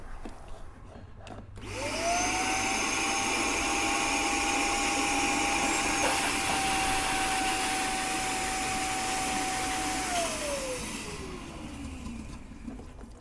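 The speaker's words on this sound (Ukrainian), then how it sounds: "вімкнути пилосос, та він прожене воду через смоктуючий шланг" A Karcher SE 3 Compact washing vacuum cleaner switches on, flushing water through its suction hose with a loud, steady motor whine and airy roar for about eight seconds, then the motor winds down in pitch.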